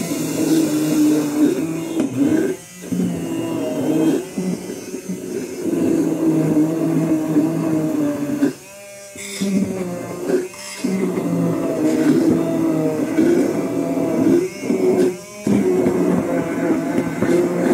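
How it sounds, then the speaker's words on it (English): An immersion blender whirs loudly in long bursts, pulverizing wild lettuce for tincture, pausing briefly several times before starting up again. "I use a submergible blender"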